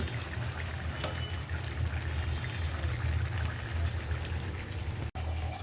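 Water poured into a cooking pot of fish curry in a home kitchen, a steady broadband splashing pour running continuously and fairly loud throughout, alone without talk.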